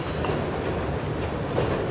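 Ohio Central EMD SD40T-2 locomotive, a 1980 former Southern Pacific unit, rumbling past with its freight train, a loud, dense, continuous roar of wheels and cars close by.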